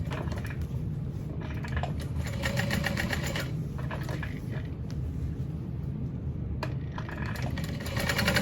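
A sewing machine top stitching around the folded edge of a small backpack, running with a continuous rapid mechanical chatter and hum at close range, with slight shifts in speed.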